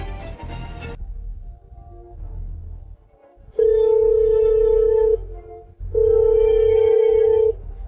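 A phone rings in two long, steady electronic tones with a short gap between, loud and close, following a brief burst of background music.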